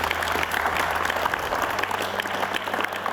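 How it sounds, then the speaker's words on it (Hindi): An audience at a televised International Yoga Day 2023 event with Baba Ramdev claps steadily in a dense, continuous burst of applause that stays even and fairly loud throughout. "उनके लिए तो फिर ताली बजाए रहे हो तो अच्छे से ही बजा लो"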